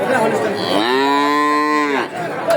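A heifer at a cattle market lets out a single long, loud moo lasting over a second, close by, with market bustle around it and no talk.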